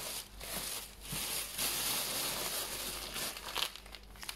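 A plastic shopping bag crinkles and rustles close by in quick, irregular handling bursts, fairly quiet with no talking.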